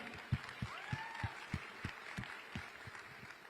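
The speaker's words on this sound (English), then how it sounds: "let's have another round of applause for the chairman of Jio, Akash Ambani" Audience applause at a Mumbai tech conference fireside chat with the chairman of Jio, heard as sparse, separate claps in a rhythmic pattern, moderately quiet with faint room murmur underneath.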